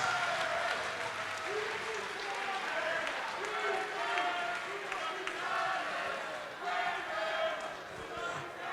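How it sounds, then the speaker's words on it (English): Crowd applauding and cheering for the runner-up after a combat-sports fight decided by unanimous decision, a steady wash of clapping and voices filling the hall with an announcer talking over it. "And let's cheer it for your runner-up, Tyler Thomas."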